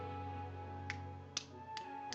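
Four light, widely spaced taps on a handheld game controller, used in place of clapping. The taps are faint and sit over a low, steady background hum.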